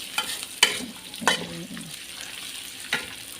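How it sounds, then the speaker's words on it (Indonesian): Chili spice paste sautés in a pan for Betawi-style pindang bandeng, a soft frying hiss broken by a few sharp spoon clinks and scrapes, near and fairly quiet, with no speech. "Terus ya tumis sampai benar-benar harum semerbak ya cangcingnya babe."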